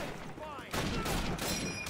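Rapid bursts of gunfire in a Call of Duty match, a sharp volley of shots cutting in abruptly after a quieter moment with a sweeping tone, close and loud, with players talking over it.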